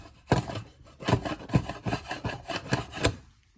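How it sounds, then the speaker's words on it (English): A putty knife scraping splinters off wood, close and rasping, in about seven quick repeated strokes with a steady back-and-forth rhythm and no talking. "Something I found works better is actually a putty knife."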